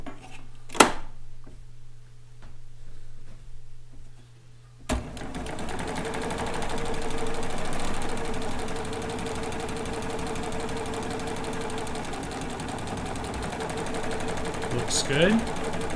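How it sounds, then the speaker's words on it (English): A serger test-sews a seam on kimono fabric, starting abruptly and running as a steady, close mechanical whir for the rest of the stretch after a brief quiet handling moment. "let me just do one more little test sew here to make sure that foot will feed it adequately"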